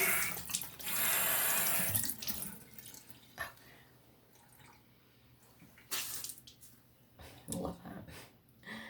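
Tap water gushing from a faucet into a sink to wet a makeup sponge, a close steady splash for about two seconds, followed by quieter squishing, drips and handling noises.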